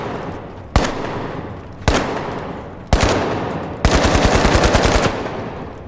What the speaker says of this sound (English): So we also can hear our casings.